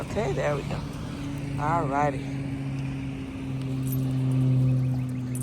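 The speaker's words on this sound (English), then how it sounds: "It's a car coming, babies." A car approaching along a street, a steady engine hum that rises gradually as it nears, with a voice talking over the first half.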